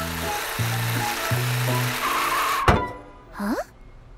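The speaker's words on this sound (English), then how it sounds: "I can hear the bus," A cartoon bus approaches with a tonal engine hum that shifts in steps, then a sharp thump and a rising whoosh, loud and close in an animated children's show.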